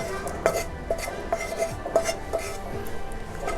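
Sautéed onion being stirred into beaten egg in a bowl for egg paniyaram, with a spoon clinking against the bowl in a steady, repeated rhythm, close and moderately loud, with no talking.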